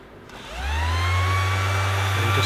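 An electric sander on its lowest setting polishes a walnut keepsake box, starting with a steady low motor hum and a rising whine that settle into a loud, continuous drone.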